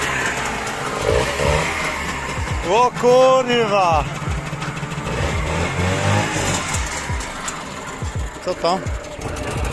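A Trabant 601's replacement engine, said to have been rebuilt, cranks, catches and runs roughly, revving unevenly in loud two-stroke bursts, while people talk and exclaim over it nearby.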